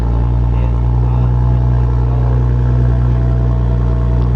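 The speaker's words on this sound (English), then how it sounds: "this is in normal mode with the HKS exhaust" A 2020 Toyota Supra with an HKS aftermarket exhaust in normal mode rumbles steadily at a low idle with a deep exhaust drone, close by and constant throughout.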